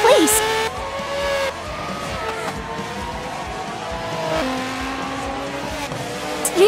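Modern V6 Formula One cars racing at Mugello in a Forza game, engine whine rising and falling with shifts and a brief tire squeal, steady and fairly loud under commentary.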